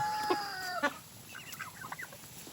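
Chickens clucking in short, scattered bursts on a rainy farm, with several harmonic calls early on and softer, choppier clucks trailing off, fairly close over a steady background hiss.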